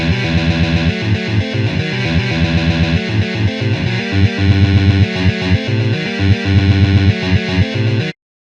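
Heavy distorted electric guitar plays a technical death metal riff reduced to its root, third and fifth chord tones, driving along in a steady chugging rhythm, loud and close throughout before stopping abruptly.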